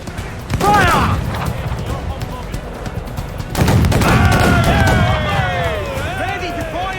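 Ship cannons fire in a naval battle in Assassin's Creed IV Black Flag, booming in loud bursts near 0.6 and 3.6 seconds amid rumbling battle noise, with shouted crew voices over the din.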